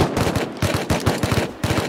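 Rapid, close gunfire in Rust, a loud run of sharp repeated shots in short bursts with brief gaps, filling the whole moment with no talking.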